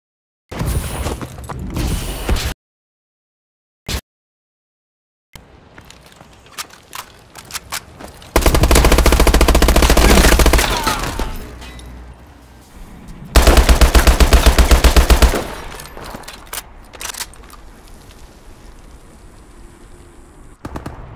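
Call of Duty Advanced Warfare match in Search and Destroy mode with bursts of automatic machine gun fire, loud rapid rattling volleys separated by quiet gaps and scattered mechanical clicks.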